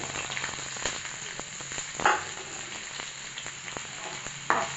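Chopped medium-sized onions hit hot oil with a bright crackling sizzle, marked by a couple of louder bursts and scattered clicks from stirring, close up and with no voices.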